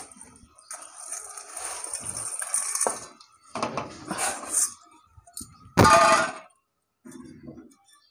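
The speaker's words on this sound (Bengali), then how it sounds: "এই যে গরম জল বসিয়ে দিয়েছি, জল গরমও হয়ে গেছে। এই চাউমিনগুলো দিয়ে দেবো।" Chowmein noodles go into a pot of hot water on a home kitchen stove, with clattering pot and utensil clinks, light splashing and a sharp metallic knock near the end.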